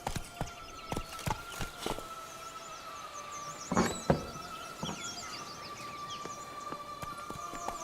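Roach, the horse in the video game The Witcher 3, gallops with rhythmic hoof thuds at first, then a louder impact and a steady bed of game ambience with chirping birds and a sustained tone, no voices.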